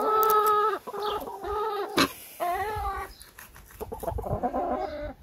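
Hens cluck repeatedly in short, tonal bursts, fairly close, with a sharp knock partway through and some low rustling underneath.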